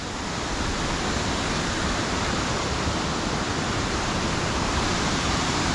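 Harmby waterfall roars steadily up close, a dense, unbroken rush of falling water with no voices.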